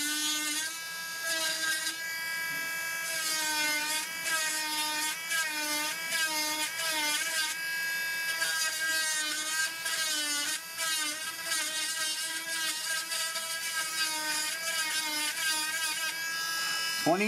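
A handheld rotary power carving tool, a Bigger Wizard 3 rated at 22,000 RPM and made in China, whines steadily at high speed with a bright harmonic pitch that wavers slightly. It runs loud and close for the whole stretch.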